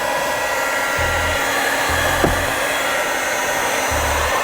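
Heat gun blowing hot air over protective film to seal its edges, a steady loud whooshing airflow throughout with a faint hum and a few low thumps underneath, no talk.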